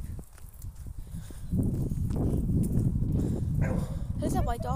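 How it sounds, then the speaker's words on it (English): A neighbor's white dog with a thick collar barks outdoors in a rapid series of loud yips and barks, with footsteps and people talking over it. "This is a white dog, I think."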